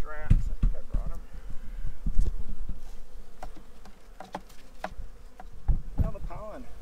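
Honey bees swarming around a tree during a trap-out, a constant close buzzing hum with individual bees droning past, alongside bumps, clatter and a few voices.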